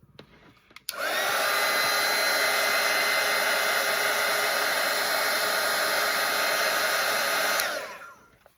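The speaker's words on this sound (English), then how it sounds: "And I'm gonna dry this." A hair dryer blasts steadily at close range over a wet watercolor painting of a bee on a flower, switching on abruptly, holding a loud even roar for several seconds, then winding down.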